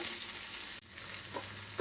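Tempering (oggarane) sizzles in hot oil for massoppu, a steady close crackling hiss that briefly dips and then resumes, with no talking.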